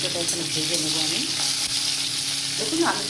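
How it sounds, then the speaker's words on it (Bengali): Steady loud sizzling of tomatoes frying in a pan, with occasional scraping and stirring sounds over the continuous crackle. "টমেটো এইভাবে ভেজে নেব"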